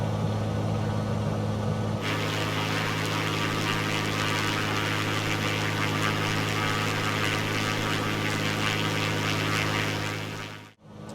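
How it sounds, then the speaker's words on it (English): Propeller aircraft engine in a flight simulator game, throttled back to reduced power, a steady droning hum with a strong low tone that shifts slightly after the first couple of seconds, continuous and loud with no talking. "So I'm going to pull the power back and let the aircraft's airspeed start to settle again."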